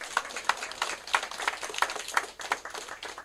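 Applause for Vietnam War veterans at a Korean civic gathering, a modest crowd clapping in a fairly even rhythm, moderately distant and not very loud.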